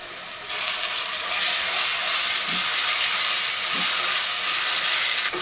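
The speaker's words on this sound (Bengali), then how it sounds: "আদা ও রসুনের কাঁচা গন্ধটা চলে যাওয়া পর্যন্ত এগুলোকে আমি একটু ভেজে নিলাম।" Ginger and garlic paste fry with onions in a pan, giving a steady, close sizzle and hiss that runs throughout with no talking.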